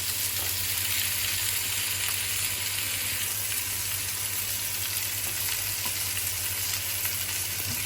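Food sizzles and fries steadily in a pan while a garlic-spiced chicken dish cooks, a continuous close crackling hiss with a low steady hum beneath and no talking.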